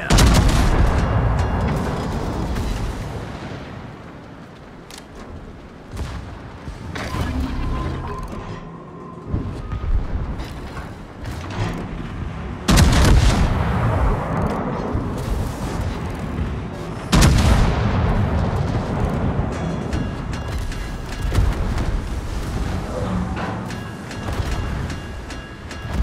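Heavy warship main-battery guns firing in World of Warships as HMS Defence, with repeated deep booming salvos and rumbling blasts over a continuous low engine and sea drone, several loud shots standing out across the stretch.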